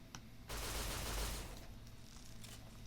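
Heavy gunfire from a raider in the Fallout: New Vegas video game, a loud sustained burst of rapid shots lasting about a second that roars through the low end, then trails off into a rumbling decay with fainter pops.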